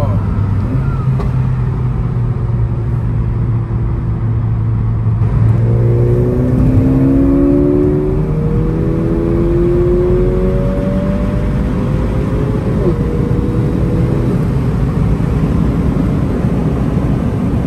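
A Mercedes-AMG A-Class car is driven in normal automatic mode. The engine drones loudly and steadily from inside the cabin, with rising tones as it shifts up through the gears, and road noise runs underneath.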